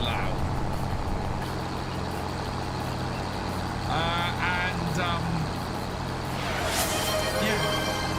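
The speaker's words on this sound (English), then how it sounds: "why is my tractor so loud?" Tractor engine in the Farming Simulator 25 video game, a steady low droning hum running throughout with a few higher mechanical squeals and hisses, while someone talks over it.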